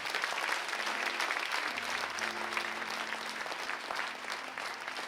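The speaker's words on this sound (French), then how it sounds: "Acclamez le Seigneur encore une fois." A worship congregation breaks into sustained, dense applause, loud and continuous, with a low sustained instrumental tone entering partway through and no clear speech.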